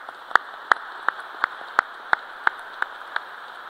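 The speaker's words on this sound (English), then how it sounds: "Please, a round of applause." Clapping at a U.S. Pacific Air Forces change of command ceremony: about nine sharp, evenly spaced claps at a steady, unhurried pace, moderately close and alone over a faint room hiss.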